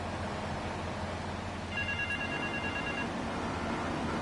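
A telephone rings within a radio show, an electronic two-tone trill that starts midway and repeats steadily for about a second and a half over a busy background bed of music and noise.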